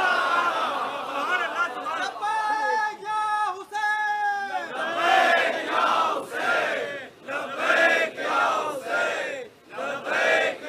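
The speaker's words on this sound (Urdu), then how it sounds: "بلندتر صلوات ہدیہ کریں گے نبی" A large gathering at a Muharram majlis in Nishtar Park, Karachi, reciting salawat loudly in unison, a dense swelling chorus of voices rising and falling in repeated waves.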